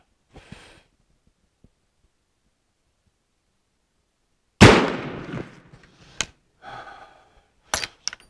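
A Werndl 1867/77 black-powder rifle fires one loud, close blast that rings out and decays over about a second, followed by a few sharper clicks and knocks of the action.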